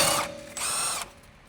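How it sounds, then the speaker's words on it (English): An impact wrench with a 10 mm deep socket removes a brake hose bracket bolt on a Honda EK with a D16Y engine. It gives two quick rattling bursts, fairly quiet and close, with no talk. "Use the impact wrench with a 10 millimeter deep socket. Remove the brake hose bracket retaining bolt."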